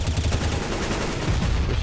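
Rapid automatic gunfire from a professional Counter-Strike match on the Overpass map, a dense loud stream of shots rattling continuously, with no talk over it.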